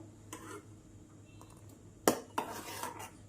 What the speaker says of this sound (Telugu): ఒకసారి బాగా కలుపుదాం